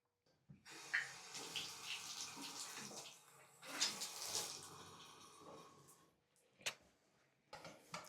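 Water runs from a newly connected hot-only tap in an old house, a steady rushing hiss that carries on for several seconds, with a few knocks and clatters before it cuts off and resumes near the end.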